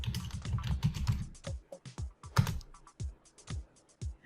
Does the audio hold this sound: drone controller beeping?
no